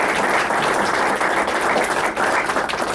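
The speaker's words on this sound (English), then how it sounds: "But let's give them a round of applause." A roomful of people at a school board meeting gives a round of applause, steady, dense clapping at close range that holds loud and even throughout.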